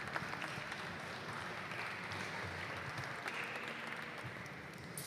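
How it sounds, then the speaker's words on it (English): Steady applause from an audience at a hot shop glassblowing demonstration at a glass museum, a dense even wash of clapping sustained throughout without a break. "let's give them a round of applause for finishing that piece"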